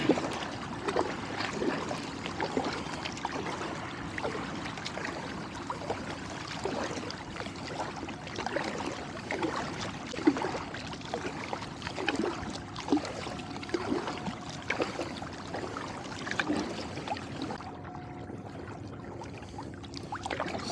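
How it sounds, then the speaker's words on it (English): Kayak paddle strokes dip and splash in steady rhythm on calm lagoon water off the shore of Pelham Bay Park, close by and moderately loud, with trickling drips between strokes and no talking. "So I'm kind of paddling in the direction of Orchard Beach"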